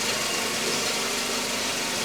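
Mercedes-Benz S124 with an M102 engine idling roughly, a steady broadband engine drone with faint uneven knocking, close and continuous with no voices.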